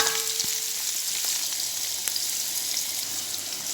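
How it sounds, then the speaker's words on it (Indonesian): Ground garlic and ginger sizzle in hot oil in a pan, a steady close frying hiss with a few faint clinks at the start, no voices. "Kalau sudah panas minyaknya, masukin bawang dan jahenya dulu ya"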